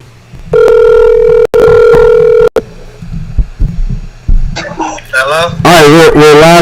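Telephone ringing on a call: a loud electronic ring tone in two bursts, then a short click, followed by voices talking on the line.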